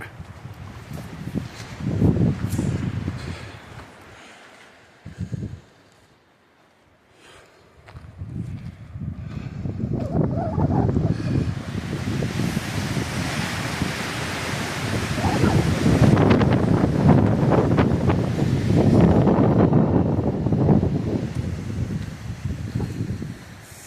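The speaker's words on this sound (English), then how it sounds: "So it's keeping the wind at bay, but you could hear it." Wind gusting through the trees by Sprague Lake in Rocky Mountain National Park, a broad steady rushing that swells and fades, dipping briefly early on before building into a louder sustained roar, with no talk over it.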